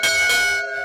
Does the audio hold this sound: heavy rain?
no